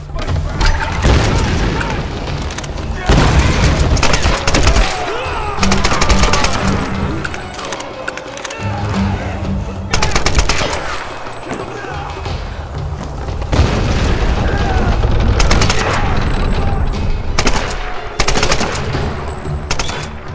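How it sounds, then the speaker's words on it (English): Rapid gunfire bursts and booming impacts during a combat encounter in the action video game Tomb Raider, with enemies ziplining in; loud, repeated volleys and blasts fill the stretch almost continuously. "People zipline in, and then you shoot them."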